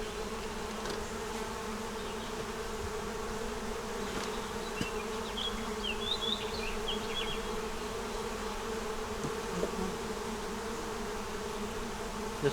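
Honeybees buzzing in a double deep nuc hive during an inspection, a steady dense drone of many wings with occasional closer individual buzzes passing near, moderately loud and with no talking.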